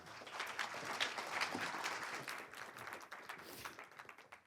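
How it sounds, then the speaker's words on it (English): A conference audience applauds a speaker, dense clapping swelling then gradually fading over a few seconds. "Once again, with huge amount of applause for Jan"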